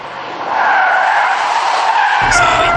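A car's tires skid and squeal loudly in one sustained screech as it swerves during a stability test with ESP switched off, close and continuous, with engine rumble joining toward the end.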